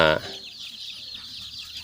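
Chickens in a backyard coop in a garden where native chickens are kept, one brief loud cluck at the start, then faint scattered clucking and ambient noise.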